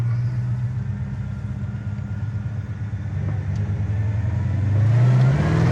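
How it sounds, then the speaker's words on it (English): A 1968 Pontiac GTO convertible's Pontiac 400 V8 runs loud and close, a steady low rumble that swells as the revs climb toward the end. "What a Pontiac 400 motor, just normal shifting."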